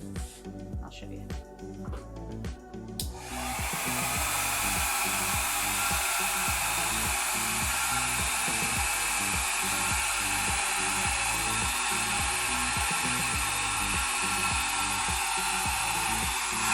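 A GoGo Mini hair dryer blows in a loud, steady whoosh on long hair, kicking on after a few seconds of handling noise and holding level to the end, with voices talking under it.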